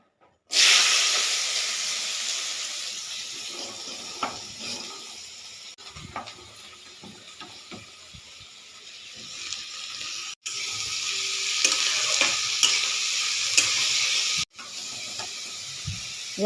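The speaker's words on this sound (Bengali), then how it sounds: "কড়াইতে তেল গরম হয়ে গেছে। এইবারে এইগুলো দেবো, এই যে গাজর" Carrots, peanuts and chopped onion hit hot oil in a wok, a sudden loud hiss that settles into a steady sizzle with occasional clinks and brief breaks.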